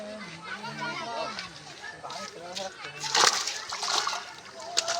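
A fishing net is hauled up through a pond, water splashing and sloshing in irregular bursts, close and lively, with several people talking and calling out over it.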